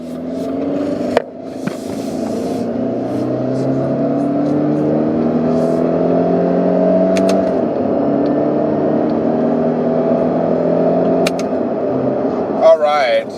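A 2019 Subaru Impreza Hatchback Limited accelerates on a road, heard from inside the cabin. The engine drone climbs steadily through the gears with brief dips at the shifts, and a voice speaks over it.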